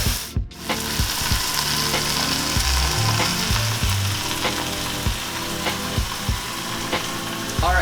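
A vegan nacho topping mixture browns in a pan, sizzling and crackling without a break while a spatula knocks and scrapes through it in uneven strokes, close up and with no voices.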